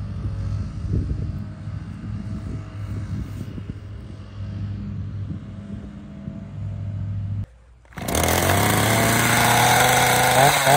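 A chainsaw runs steadily at a low idle-like drone while clearing storm-damaged cedar, then cuts out briefly before revving to a loud, high, sustained whine near the end.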